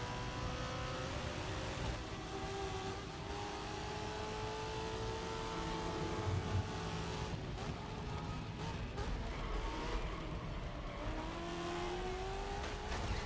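A Ford V8 race car engine in GRID Legends drones and revs continuously, with rising and falling pitch as it accelerates and shifts, and faint tire squeal, fairly quiet overall.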